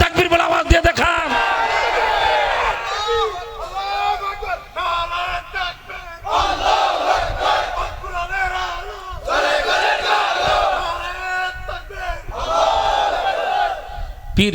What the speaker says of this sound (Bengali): এই নারায়ে তাকবীর বলে আওয়াজ দিয়ে দেখান।